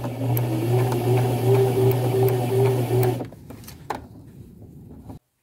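A sewing machine runs steadily while stitching the last row along the edge of a curved hem on a thrifted men's shirt, a close, even mechanical whir that stops after about three seconds, leaving small clicks and handling noises.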